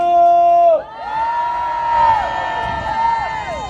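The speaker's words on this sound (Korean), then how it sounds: "자, 다 같이 함성." A large crowd at an outdoor political rally cheers and shouts together, a loud collective roar mixed with sustained, wavering tonal voices or horns, dipping briefly before swelling again.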